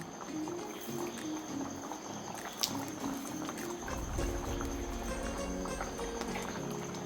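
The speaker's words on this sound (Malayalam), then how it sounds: "ഇത് നന്നായിട്ട് തിളയ്ക്കട്ടെ" A pot of potato curry bubbles steadily at a low simmer, a soft continuous boiling texture with an occasional small clink, no voices.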